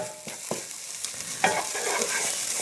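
Garlic sizzles in a hot, slightly smoking pan while being stirred, a soft continuous frying hiss with a few scraping taps of a utensil, fairly close and quiet.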